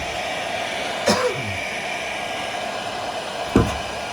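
A heat gun blows a steady, close roar of hot air over Bondo filler on a 1959 Harley Sportster fuel tank. A couple of short throat-clearing or coughing noises break in over the constant airflow.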